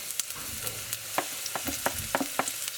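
Garlic and ginger sizzle in a hot pan with sliced onions for a chicken wet fry, a steady frying hiss broken by repeated scraping stirs and clicks of the utensil, close and fairly loud, with no talking.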